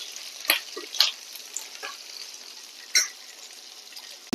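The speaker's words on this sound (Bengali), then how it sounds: "সবজিগুলোকে আমি এখন একটু ভালো করে ভেজে নেব" Pumpkin, ridge gourd, potato and eggplant frying together in oil in a pan, giving a steady close sizzle with a few sharp stirring clicks and scrapes, without any voices.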